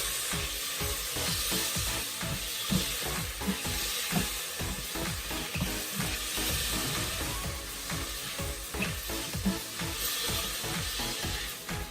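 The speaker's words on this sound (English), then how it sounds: "I'm going to add in tomatoes. Just give it a good mix." Onions and tomatoes sizzle in a pan for chicken dum biryani while a spoon stirs them in quick, repeated scraping strokes over a continuous loud frying hiss, heard alone without speech.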